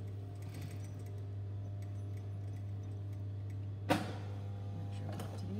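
Steady hum of a sewing machine stitching a fly front zip seam, running continuously with a brief clack near the end, close and even, with no talking.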